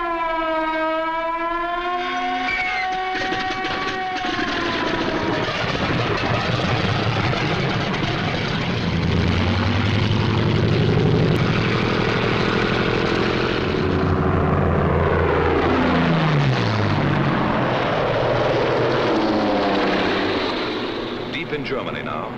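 WWII German Messerschmitt 109 and Focke-Wulf 190 piston-engine fighters in flight, a loud sustained engine roar with shifting, swooping pitch as the aircraft pass, filling the whole stretch without any speech.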